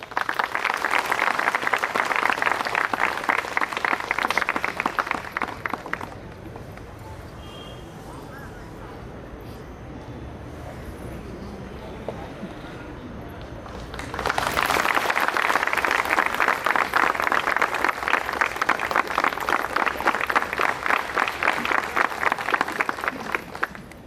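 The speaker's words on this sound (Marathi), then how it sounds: "आपण सर्वांनी जोरदार टाळ्या वाजवायच्या आहेत" Loud audience applause rings out at a Constitution festival ceremony and flame-lighting event honouring a dignitary. Clapping fills the first six seconds, drops to a quieter murmur, then swells back into sustained, dense applause for the final ten seconds.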